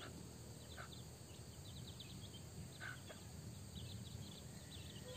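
Bantam hen foraging with her chicks, two of them white, gives faint, sparse clucks while tiny peeps sound softly and repeatedly against a quiet outdoor background.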